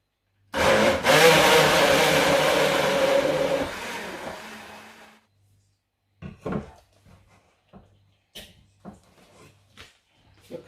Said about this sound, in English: I'm going to blend the Sharon fruits now.